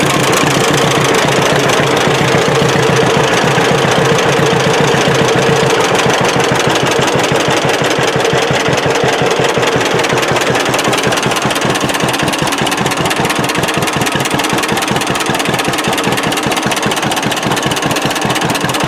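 A steady, loud 1937 John Deere B tractor engine chugs with a regular knocking rhythm throughout, close by and continuous with no talking.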